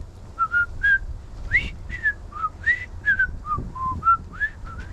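Someone whistles a halting tune up close, short separate notes with gaps between them over faint low wind noise, outdoors in freezing weather.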